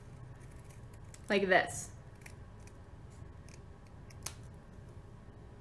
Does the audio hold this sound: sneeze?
no